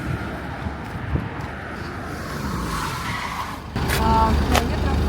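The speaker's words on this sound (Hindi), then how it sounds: "एक गाड़ी रुकी है, एक गाड़ी।" A car on a road in Siberia pulls over and stops to pick up hitchhikers, its engine and tires rumbling nearby, then a louder burst of engine and road noise near the end.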